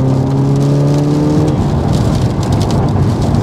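A manual Audi S1 with 352 bhp accelerates hard, its engine note climbing steadily for about a second and a half before giving way to a loud rushing roar of road and wind noise.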